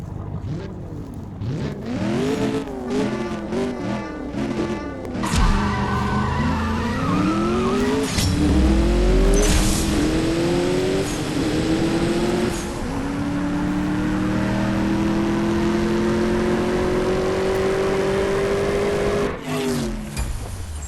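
A car's engine revs hard while its wheels spin without traction, the engine note rising and falling, then holding a loud, sustained screaming pitch with tire squeal throughout, close and alone.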